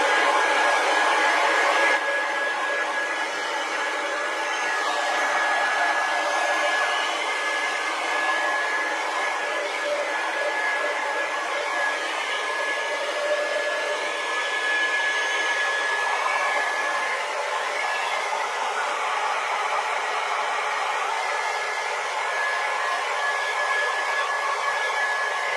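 A heat tool blows steadily while drying an art journal page, a continuous close whooshing hum that runs unbroken and alone for the whole stretch.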